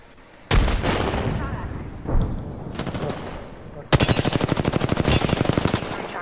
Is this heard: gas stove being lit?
no